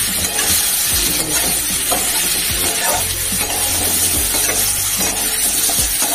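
Chopped ridge gourd hits frying onions in a pan, a loud, continuous sizzle with clattering stirring and utensil knocks against the pan.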